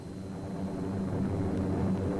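American and Australian warplanes in flight over New Guinea during the Second World War, heard as a steady, moderately loud engine drone with a low rumbling hum that stays even throughout, no voices.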